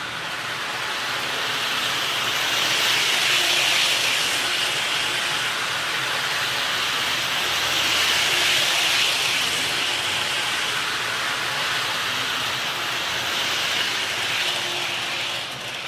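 A toy model train running along its track, a continuous whirring, rattling rumble that swells and fades as it circles past, close and fairly loud, with no talking.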